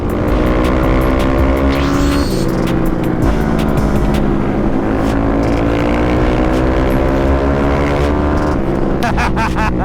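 A Suzuki LTR ATV cruises down a paved road in fifth gear, its engine droning in a loud, steady note with strong harmonics and wind roar throughout, shifting pitch slightly partway and again near the end.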